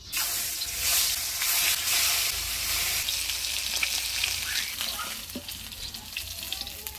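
Aair fish, rubbed with turmeric and salt, frying in hot oil: a loud, dense sizzle that swells early and then settles into a continuous crackling hiss.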